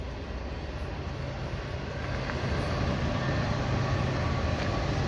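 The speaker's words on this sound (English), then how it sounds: "Sounds like there may be another train coming." Steady, loud rumble of a train rolling past nearby, a continuous broad roar that swells slightly louder toward the end.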